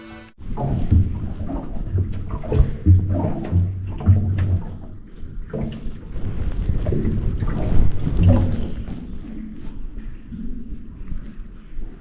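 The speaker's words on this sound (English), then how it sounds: "let's record the sounds and atmosphere we experienced during the boat ride in the cave" Continuous low rumble of a boat moving through water inside the Waitomo Glowworm Cave, with splashes and hollow, echoing reverberation under a steady wash of noise.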